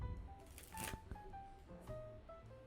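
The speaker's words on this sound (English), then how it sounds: "And one last shuffle." A quick riffle of tarot cards being shuffled close by, a brief papery flutter followed by softer handling.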